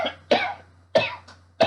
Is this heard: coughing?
yes